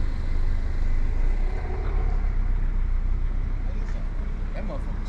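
Engine of a Jeep revving hard as the throttle is pressed, a steady loud roar with rumble and surging low end, close by throughout.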